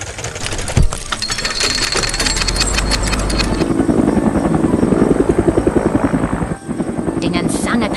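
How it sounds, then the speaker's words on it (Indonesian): A red animated helicopter arrives at a construction site, its rotor chopping in a loud, steady rhythmic beat that continues throughout while a narrator speaks over it. "Sebuah helikopter merah datang untuk membantu mengangkat temuan bersejarah ini."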